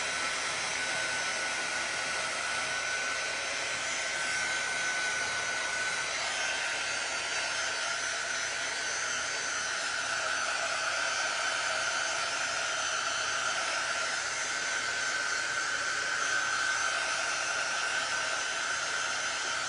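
A hair dryer blows steadily at close range while drying a rustic patriotic candle lamp craft, a constant loud whooshing roar with no breaks.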